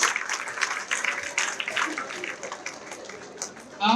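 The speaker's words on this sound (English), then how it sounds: "Everyone, applause." Audience applause at a university convocation ceremony in Kolkata, a steady patter of many hands clapping at moderate distance, continuous through the moment with a brief loud burst at the end.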